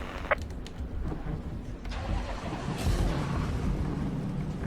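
Race cars in Assetto Corsa Competizione rumble together at the start of a race, a dense steady engine drone with a swelling roar partway through and a few sharp clicks near the start.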